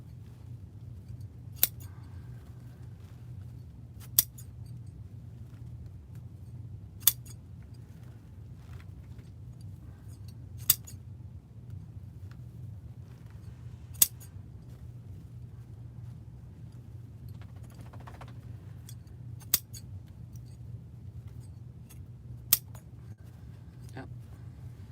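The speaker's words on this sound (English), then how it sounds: "So I'm just folding my ribbon and cutting it at an angle." Scissors snip through ribbon at an angle while a wreath is being made, giving about eight sharp, isolated clicks spaced a few seconds apart over a steady low background hum.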